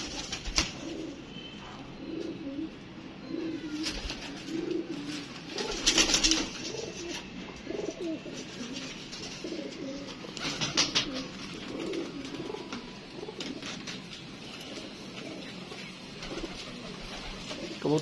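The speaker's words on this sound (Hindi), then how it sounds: "क्या कबूतर है यार, पूरा साइज का और पूरे दिनों का कबूतर है" Pigeons coo steadily for the whole stretch, soft repeated low calls at close range over light background noise, with no talk over them.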